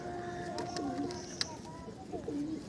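Delhi pigeons coo softly in a loft, several low, repeated rolling calls overlapping against quiet background noise, with a small click or flutter and no clear talk.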